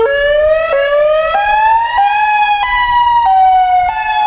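An Eows 612 siren gives a rising, stepped electronic wail, its pitch climbing in short jumps every half second or so before levelling off. It is loud and close, with nothing else audible.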